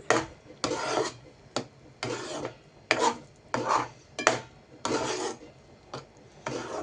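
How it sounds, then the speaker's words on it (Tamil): Halwa cooked with coconut oil being stirred in a pan, a ladle scraping and rasping against the pan in about a dozen repeated strokes, close and fairly loud with no talk. "கிண்டிக்கலாம் மறுபடியும் நல்லா"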